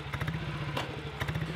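Motorcycle engines at a long-running bike rally, a close, loud rhythmic low chugging idle with clattering and a couple of sharp knocks over it.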